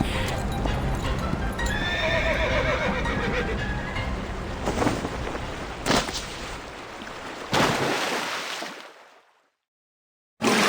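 Horse neighing and hooves clip-clopping in the video game Reverse 1999, a loud whinny early on followed by galloping hoofbeats and impacts that fade out to near silence before a sudden sound at the very end.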